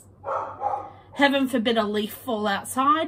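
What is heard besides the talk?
dog barking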